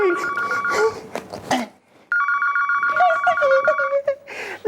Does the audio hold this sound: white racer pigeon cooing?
no